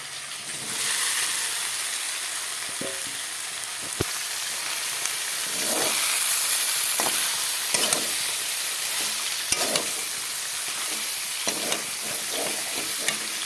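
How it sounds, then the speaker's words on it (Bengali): Vegetables sautéing with spices in a pan for katla fish curry, a steady sizzling hiss broken by scrapes and clacks of a spoon stirring, close and fairly loud with no voices. "সবজিগুলো কষিয়ে নিয়ে আর একটু মশলার সাথে"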